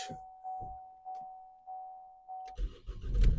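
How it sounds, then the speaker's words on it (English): A 2012 Vauxhall Astra SRi CDTi diesel: several repeated warning chimes ring out, then the engine cranks and catches with a rough, loud diesel clatter that settles into a running rumble. "The car starts straight away, no issues whatsoever."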